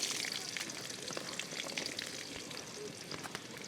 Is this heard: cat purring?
no